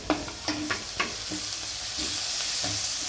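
Ground green chili and garlic paste drops into onions frying in a pan for patra leaf bhaji, bringing a few stirring scrapes and clinks over a rising, steady sizzle that grows denser toward the end.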